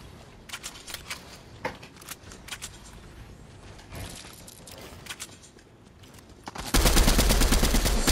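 Sharp bursts of video game gunfire in Fortnite crack out irregularly, some in quick clusters, over a busy game mix, before a dense, loud wash of noise takes over near the end.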